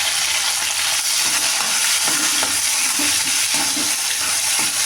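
Onions and tomatoes frying in a pan for a fish curry, a dense continuous sizzle with occasional scraping stirs, close and fairly loud.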